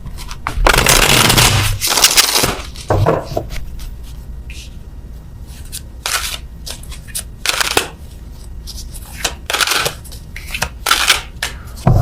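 Tarot cards are shuffled in repeated loud riffling bursts, close by, with softer taps and card handling between them.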